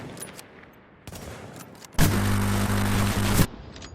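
Gunfire in the video game The Division bursts out in a rapid, loud automatic volley lasting about a second and a half, after quieter in-game rustles and thuds.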